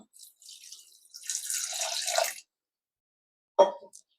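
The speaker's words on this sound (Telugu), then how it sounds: "బగోన్లో కొద్దిగా వాటర్ పోసుకుందాం." Water is poured into a cooking pot while tomato rasam is being made at home: a brief close trickle and splash lasting about a second, then silence and one sharp drip or clink.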